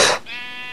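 A Minecraft sheep lets out a single short, clear bleat, loud and close, with a bright wavering tone that trails off briefly.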